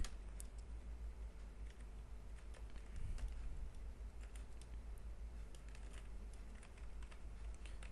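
Code is typed on a computer keyboard in quick, light, irregular key taps, faint and close, with a steady low hum underneath and no speech.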